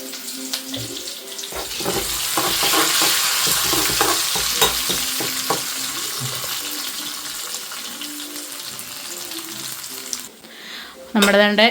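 Mustard seeds, dried chillies, sliced onion and curry leaves fry in hot oil for a mushroom theeyal, a steady broad sizzle with scattered crackles and pops, ending with a brief clatter.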